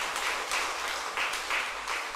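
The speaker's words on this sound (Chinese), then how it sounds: "我们也鼓掌来鼓励这些" A church congregation at a Taiwanese-language Sunday service applauds, with a sustained wash of many hands clapping in a loose pulsing rhythm at moderate distance.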